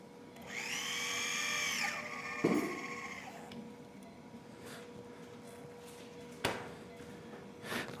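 A high-pitched surgical drill whines for about a second and a half drilling bone during tibial fracture plating on a young dog, then stops. Clinks and a couple of sharp taps follow in a quiet room.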